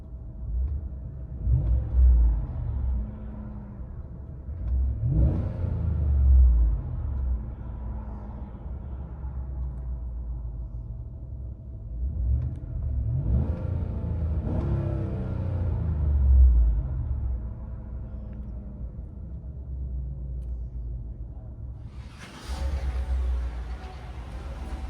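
Inside the cab of a 2015 GMC Sierra SLT with a 5.3L V8 and Borla Touring exhaust, a low, muffled engine rumble swells and eases back in three slow rev surges, followed by a brief sharper burst near the end.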